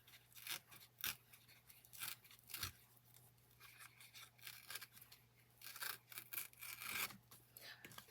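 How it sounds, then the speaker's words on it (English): Paper being torn by hand for a scrapbook page, a series of close, irregular ripping and rustling bursts, some short and some drawn out, over a quiet background hum. "Easier to tear when it's larger pieces, but I don't want to tear off too much"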